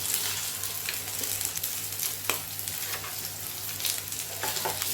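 Seer fish (vanjaram) slices fry in oil with a continuous crackling sizzle, close and steady, broken by small pops and spatters.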